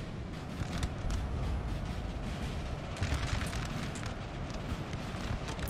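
Massed musket volleys crackle and boom continuously in a Napoleon: Total War battle as French forces fire on a retreating army, a dense rolling barrage of distant gunfire.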